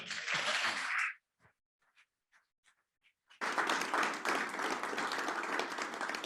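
A church congregation claps and cheers during a healing service, a loud burst at the start, then a few scattered claps, before broad applause swells back in and continues strongly to the end.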